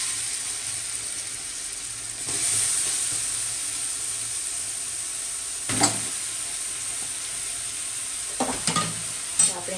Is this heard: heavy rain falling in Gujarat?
no